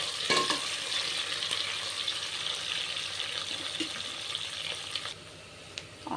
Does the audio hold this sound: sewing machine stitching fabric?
no